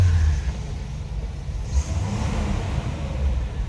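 A 1957 Cadillac Eldorado Seville engine runs near the microphone, a low steady rumble with a brief rise in revs partway through, no talking.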